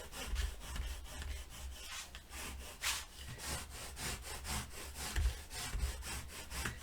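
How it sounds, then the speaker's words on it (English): Score tape being burnished firmly onto paper for a mini album, a steady rhythmic rubbing and scraping with repeated back-and-forth strokes, close and moderately loud with no talking. "I'm going to burnish it real well"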